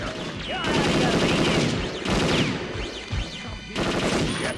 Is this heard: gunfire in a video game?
yes